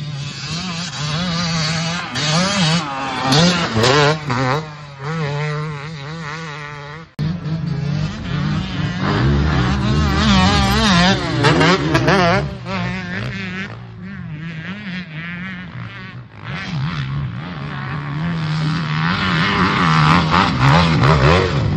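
Several motorcycles rev hard and accelerate continuously on a riding outing in Sardinia, their loud buzzing engines rising and falling in pitch near and far, with a brief cut partway through and no talking.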